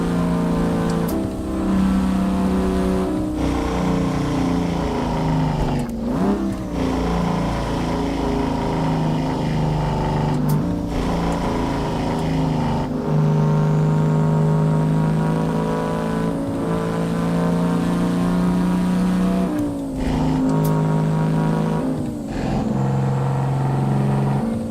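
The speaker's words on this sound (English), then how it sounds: "it's nice to actually have a 2-stroke that sounds like a fucking 2-stroke" Two-stroke truck engine in American Truck Simulator, a loud, buzzy, raspy drone that revs up and down through gear changes, heard close and alone throughout.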